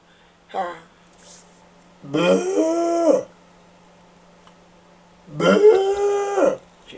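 A dog lets out three drawn-out howls and whines, close and fairly loud, separated by short quiet gaps over a steady low hum.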